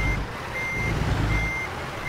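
In American Truck Simulator, a backing truck's alarm beeps at an even pace above the deep drone of its idling engine, clear and continuous with no voices.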